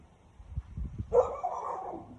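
A dog lets out one fairly loud, close bark or yelp after a second of low rumbling, trailing off briefly, with no voices over it.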